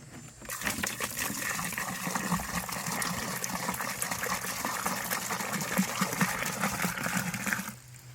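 Steady gushing of antifreeze being poured into an inground swimming pool pipe, a continuous close splashing flow lasting several seconds before stopping abruptly.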